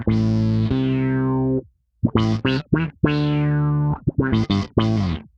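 A buzzy, fuzz-distorted synth bass plays sustained notes alternating with short, choppy gated stabs, loud and up front with no voices.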